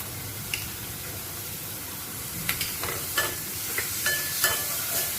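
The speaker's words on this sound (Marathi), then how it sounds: "आपल्याला तेल सुटेपर्यंत बारीक गॅसवर परतून घ्यायचं।" Onion-coconut masala with ginger-garlic paste sautéing in oil on a low flame for soya chunk gravy, a steady close sizzle broken by several light spoon stirs and scrapes.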